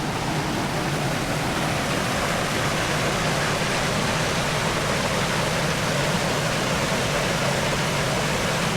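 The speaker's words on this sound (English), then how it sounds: "there's the two big waterfalls" Purling Brook Falls, splitting into two big waterfalls, roars as a constant, dense rush of falling water, steady and unbroken throughout with no voices.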